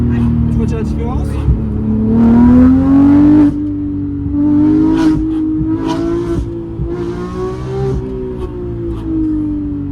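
GE Supercars race car engine revving as heard from inside the cabin, a loud sustained engine tone rising and holding across the clip, with people talking over it.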